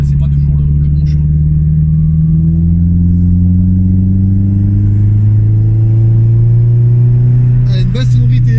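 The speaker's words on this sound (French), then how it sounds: "Elle a une belle sonorité." A Toyota MR2 engine revs up in one long, smooth climb, loud and close, before easing off near the end.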